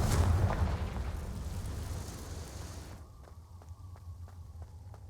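Confringo fire spell blasting off in the Hogwarts Legacy video game: a loud, broad roaring burst that carries for about three seconds, then drops to a quieter rumble with faint regular ticking.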